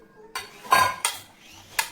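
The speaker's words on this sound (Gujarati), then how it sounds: "તમે મોટા વાસણમાં ટ્રાન્સફર કરી લો એટલે બધું મિક્સ થઈ જાય" A spoon clinks and scrapes against a large metal vessel as a spicy corn snack is mixed, four sharp metallic knocks spaced apart, close and clear with no voices.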